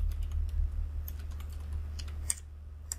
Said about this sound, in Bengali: ওকে, এন্টার দিলাম।